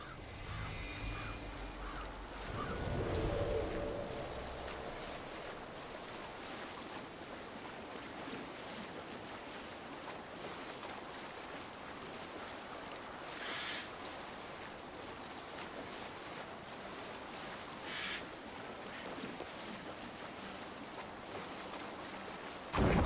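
A Viking longship sails on the open sea in the video game Assassin's Creed Valhalla, with continuous wind and wave wash and the occasional surge of water against the hull.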